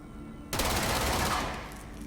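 Gunfire in the video game Control breaks out abruptly after a quiet half-second, a rapid close automatic burst that rings on and slowly tails off.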